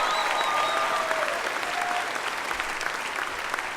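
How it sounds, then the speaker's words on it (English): Sustained audience applause at a 2017 spring university commencement, honoring the marching band; dense, steady clapping from a large crowd throughout, with a few faint whistles early on. "Can we give a round of applause for the Bearcat marching band and our band in general?"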